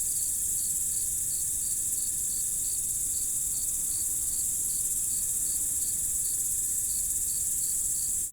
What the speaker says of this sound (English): the next bed of ambience I have are cicadas, crickets, which are always great for a night scene